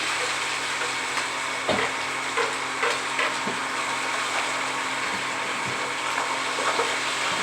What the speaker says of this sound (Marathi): जिरं टाकते आहे तेजपत्ता आणि हे जे लवंग वगैरे घेतले सगळं टाकून देते फोडणीमध्ये